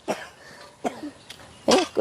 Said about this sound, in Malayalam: കുട്ടി ചുമയുണ്ടല്ലോ എൻ്റെ മോൾക്ക്.